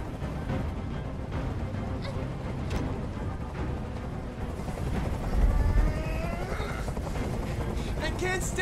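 A helicopter hovers nearby in the video game Detroit: Become Human, its low rotor rumble and broadband wash running steadily throughout, swelling slightly midway, with tense voices and music cues over it.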